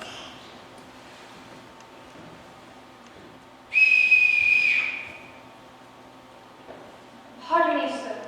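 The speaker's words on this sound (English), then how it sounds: "I forgot to return this whistle, Captain." Whistle blown at a school stage production of The Sound of Music: a sharp shrill blast of about a second amid quiet stage ambience, then a second brief blast at the end, with voices around it.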